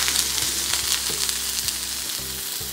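A flipped duck breast fries in a pan, hissing and crackling loudly and continuously up close, with faint clicks and low hum underneath and no talk.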